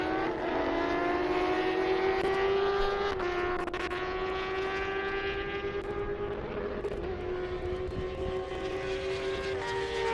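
A Jaguar F-Type runs a half-mile airport drag strip in Indiana, giving a loud, steady engine drone with a slightly shifting pitch for the whole stretch and no voices.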